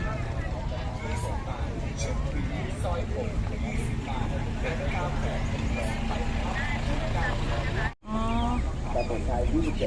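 Young chickens cluck and squawk at a busy open-air market in Chiang Mai, heard steadily under constant crowd chatter and nearby talking.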